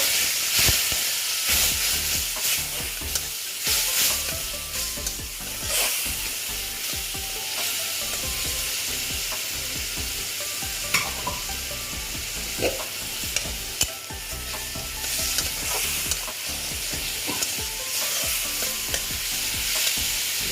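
Spices sizzling in a pan with a splash of water while bitter gourd and potato curry cooks: a steady, loud frying hiss with stirring scrapes and occasional crackles throughout.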